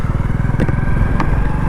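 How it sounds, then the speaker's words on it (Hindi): A motorcycle engine runs loudly and close in second gear while the bike turns, keeping a steady throbbing rumble with a couple of brief clatters and no talk over it. "तो दूसरे गियर में बाइक हमारी मुड़ चुकी है।"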